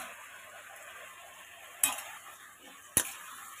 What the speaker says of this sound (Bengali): ডাঁটার সঙ্গে এইভাবে ভালো করে কুমড়োটা কষে নেব।